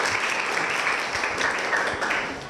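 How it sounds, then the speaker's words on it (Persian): Audience applause in a Persian studio quiz show on mental health, a steady wash of clapping holding for a few seconds before easing off slightly at the end. "یک تشویق مجدد."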